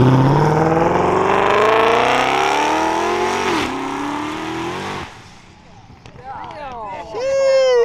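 A turbocharged Ford Mustang revs hard in a burnout pit at a Mustang car show, its engine climbing in pitch over several seconds, dipping, then giving way to squealing chirps as a crowd shouts nearby.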